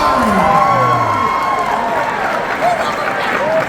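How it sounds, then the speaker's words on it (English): Crowd applause and cheering fill a room at Knott's Scary Farm Midsummer Scream, with loud, continuous clapping mixed with whoops and shouts while voices call out over the top. "give her a round of applause and look at that"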